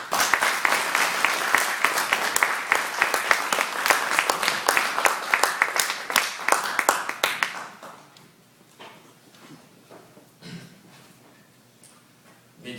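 An audience applauds a speaker being welcomed to a conference in Canada. Dense, steady clapping fills the first seven seconds, then fades to a few scattered claps and quiet room noise.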